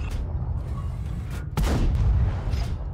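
Lorraine 40t tank cannon firing in World of Tanks: one heavy, booming shot cuts sharply through a steady low engine rumble, with a rolling echo after it.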